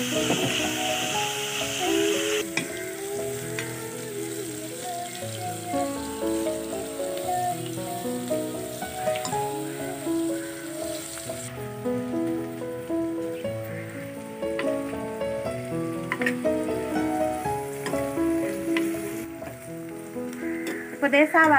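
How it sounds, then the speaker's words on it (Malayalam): Sliced onions with salt and curry leaves sauté in a pan for a chicken gizzard and liver curry, a soft continuous sizzle running under tonal background music throughout. "ഇനി സവാള നന്നായിട്ടൊന്ന് വാടിക്കിട്ടണം."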